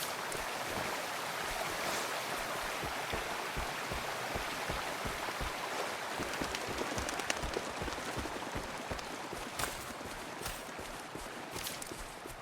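Steady rushing water of a waterfall in the Wuthering Waves video game, a continuous broadband roar with light splashing texture, at constant loudness throughout with no voices.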